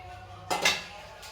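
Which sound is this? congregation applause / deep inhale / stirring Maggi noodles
stirring Maggi noodles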